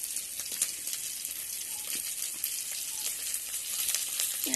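Fish fries in a pan in a home kitchen, a steady bright sizzle with soft crackles and faint patter that continues evenly throughout without any voices.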